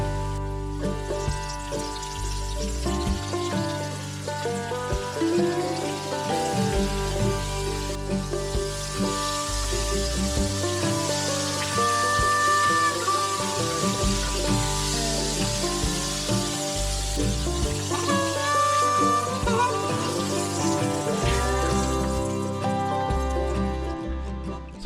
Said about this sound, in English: Squirrel legs are done frying